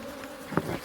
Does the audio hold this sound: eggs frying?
no